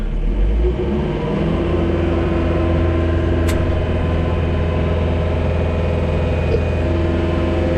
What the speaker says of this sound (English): I'm going to lift up, lift that up, I'm going to throttle up